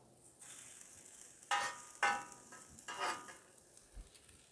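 A Tex-Mex haystack is flipped on a sizzling Blue Rhino Razor outdoor griddle: three sharp, close spatula scrapes over a soft, steady hiss of cooking.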